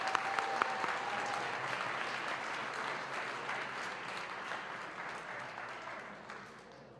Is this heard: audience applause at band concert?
yes